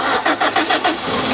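A little Suzuki car, bought broken and just primed with petrol, cranks over with a rapid rhythmic chug of about six quick pulses as the engine catches, loud and close with no talking.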